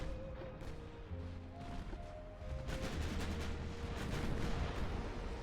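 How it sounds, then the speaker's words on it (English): Heavy cruisers fire gun salvos in the naval game Ultimate Admiral Dreadnoughts, with deep booming blasts and rumbling impacts that build from moderate to heavier, layered over a continuous battle din. "Large, deadly salvos coming out of these heavy cruisers"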